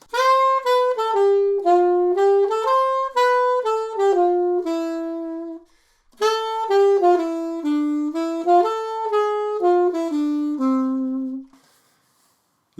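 Melodic phrase in triple time with two quavers on the second beat, played as clear pitched notes in a steady lilting rhythm, repeated twice with a short gap between phrases and no talking.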